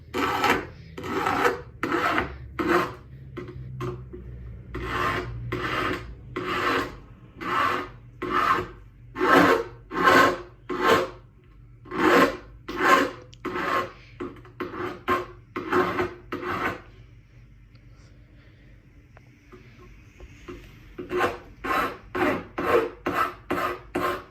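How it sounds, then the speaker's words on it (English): A metal ring end is filed to a point with a long series of rhythmic rasping strokes, close and clear, then a pause of quiet before a quicker burst of strokes, with no talk. "whether I need to work any more on filing to get a good match"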